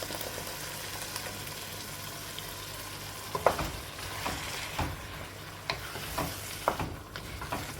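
Chicken and ground masala are stirred in a pan for chicken biryani over a soft continuous sizzle. Several sharp spoon scrapes and clacks stand out toward the end, and nobody speaks.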